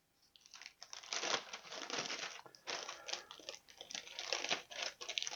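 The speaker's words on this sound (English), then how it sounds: "Everything in the box comes in one plastic bag, which is jolly nice." A plastic bag of model kit parts for a Lee-Richards circular-wing monoplane crinkles and rustles up close in irregular bursts as it is handled, fairly quiet and with no talk.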